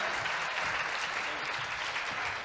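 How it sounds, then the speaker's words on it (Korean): Audience applause at a Korean health research institute's annual academic conference after a panel discussion, a dense, even wash of clapping from a large crowd throughout. "여러분 다시 한번 뜨거운 박수 부탁드립니다"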